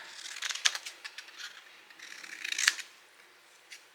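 Scissors snip through paper for a small Christmas tree treat box, a close, quiet series of crisp cutting strokes with short pauses between them.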